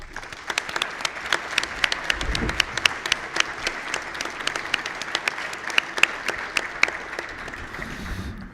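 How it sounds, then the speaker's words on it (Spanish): Applause from an audience at a university lecture event, steady and sustained for several seconds, a dense patter of many hands with sharper individual claps standing out, at moderate distance in a hall with no one speaking over it. "pedirles a ustedes un aplauso para él."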